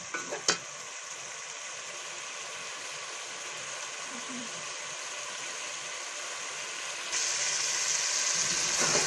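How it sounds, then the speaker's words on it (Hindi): Potatoes and masala frying over high heat in a pan, a steady close sizzle that grows louder near the end, with a brief clatter at the start and no talking. "और आंच तेज करके इसको थोड़ी देर भून लेंगे।"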